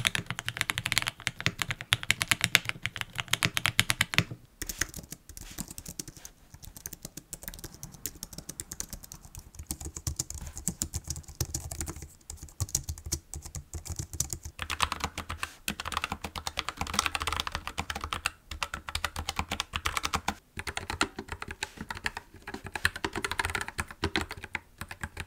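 Steady, continuous typing on a premium computer keyboard, with dense rapid keystrokes running the whole time, close and clear with no voices.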